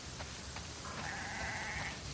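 A flock of sheep in The Last of Us Part 2 gives a single drawn-out bleat, clear and fairly close, over a soft continuous background hum from the game.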